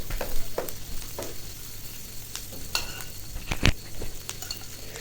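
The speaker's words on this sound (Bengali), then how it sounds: "তো এখানে পেঁয়াজটা আমি কেটে নিয়ে এখন ভেজে নিতেছি।" Onions frying and being stirred in a pan for a fish curry, a steady broadband sizzle with scraping stirs and a few sharp utensil clicks against the pan, close and continuous.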